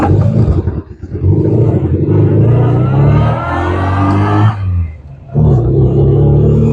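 Triumph Spitfire sports car engine drones and revs while driving on a country road, loud and close, with rising pitch as it accelerates and dips during gear changes.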